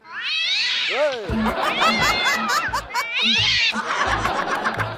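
Cats yowl and screech at each other in a drawn-out fight, with bursts of laughter from people underneath.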